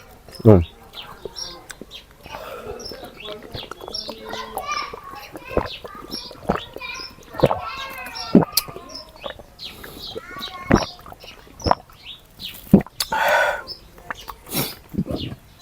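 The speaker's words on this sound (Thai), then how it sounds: "นั่งฟังเสียงนก" Birds and chickens call outdoors in a rural yard, with clucks and short chirps scattered among frequent children's voices and other people talking nearby, making the scene busy and irregular.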